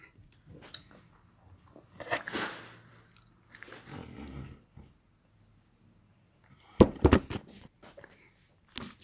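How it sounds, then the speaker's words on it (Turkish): Big Babol bubble gum is chewed close to the mic, with wet, sticky mouth clicks and smacking in a few irregular bursts separated by near silence. "Ben bunu bayağı çiğneyim."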